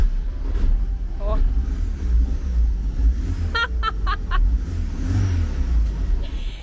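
A Fiat Fiorino running a swapped-in Fiat 147 engine, started with a Volkswagen Beetle key, idles with a steady low rumble close by while people talk over it.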